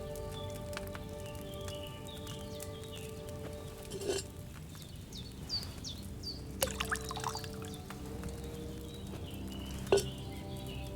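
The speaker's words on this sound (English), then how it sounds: "First, you have to pour the right base into the cauldron." Wine is poured from a pitcher into a cauldron in the video game Kingdom Come Deliverance 2, a soft steady trickle under background music with a few scattered clinks.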